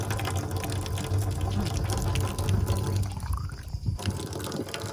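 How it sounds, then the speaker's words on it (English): Water running steadily from a communal village water fountain fed by filtered river water, a continuous close splash and gurgle with a brief shift in flow near the end. "This is our communal water fountain, and thank God for it"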